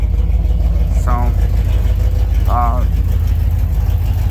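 An old Dodge pickup truck drives down the road with a steady low engine drone, recorded from inside the cab, while a voice speaks briefly over it.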